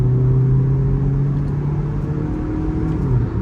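A 2008 Toyota Altis 1.8G automatic driving at speed, a steady low engine hum and road rumble filling the cabin, loud and even throughout with a slight shift in tone.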